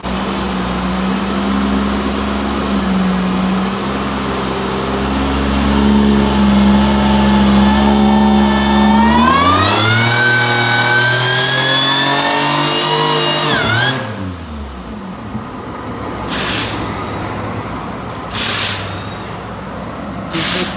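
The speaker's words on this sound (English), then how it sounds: "So this pull they're doing right now is on meth and it is boosting." A supercharged Toyota Sienna engine on a dyno pull, running on methanol injection with boost, climbs steadily in a loud continuous rev for about fourteen seconds before cutting off, followed by quieter mechanical noise.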